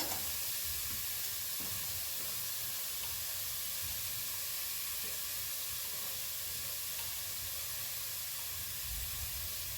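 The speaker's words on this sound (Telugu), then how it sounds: "ఇప్పుడు క్యాప్సికమ్ వేసేస్తా." Capsicum tossed into a pan of sautéing vegetables for a mixed vegetable and pea soup gives a steady, broadband sizzle and hiss with faint stirring scrapes, continuous and close, with no speech.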